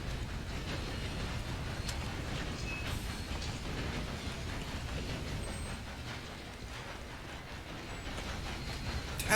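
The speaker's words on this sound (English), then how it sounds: "How do you go about stopping a train?" Train rumbling along in Red Dead Redemption 2, a steady loud rolling roar with faint clatter and occasional high squeals, continuous throughout with no talk.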